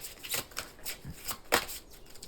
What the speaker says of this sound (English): let me just shuffle some more